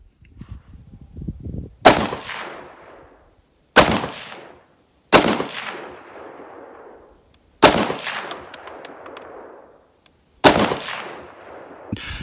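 Five loud, separate rifle shots from a SOCOM 16 CQB chambered in 7.62x51 and fitted with a Vortex Venom red dot, fired at a target 100 yards away, each crack trailing off in a long rolling echo, with no talking.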